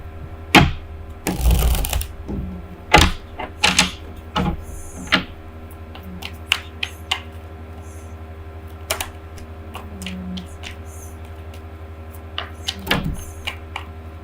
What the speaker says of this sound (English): Too many cards fell out here, so I'm going to put them back.